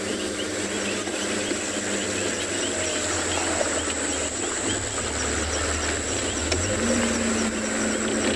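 A summer night in the African bush at Djuma fills with a dense, continuous chorus of frogs and insects, steady and even with a faint high whine throughout.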